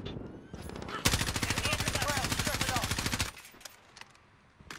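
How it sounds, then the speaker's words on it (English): Rapid automatic gunfire in Call of Duty Modern Warfare hardcore multiplayer, a sustained burst of about two seconds of evenly spaced shots, loud and close, followed by quieter game sounds. "Somebody shoot that thing. Yeah, shoot it."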